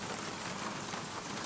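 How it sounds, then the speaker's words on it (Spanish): Steady rain falls in a soft, even hiss that fills the space, moderately faint and continuous, with no voices. "Dicen que la lluvia arrulla"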